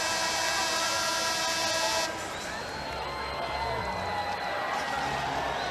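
Houston Rockets fans cheer at an NBA basketball game against the Pistons, a loud arena crowd roar that drops to a lower sustained murmur partway, with talk over it.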